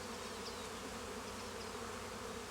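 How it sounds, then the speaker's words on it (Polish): Bees buzz in a dense, continuous drone, many of them swarming close by, faint overall but steady throughout with no talking. "Tych pszczół tu nawet jest i w ogóle"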